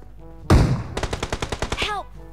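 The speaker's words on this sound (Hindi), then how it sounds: "फायर कर रहा है लेकिन कहाँ।" Gunfire in the mobile battle royale game BGMI: a loud blast, then a quick burst of about ten rapid automatic shots, followed by a short rising ricochet-like whine over a low background hum.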